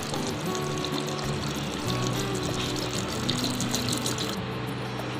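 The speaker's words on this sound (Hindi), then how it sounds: "ये फालसे में पानी डाल रही हूँ" Water being poured from above into a jug holding falsa berries for a homemade falsa Limka drink, a steady continuous splashing and trickling pour heard up close with no talking.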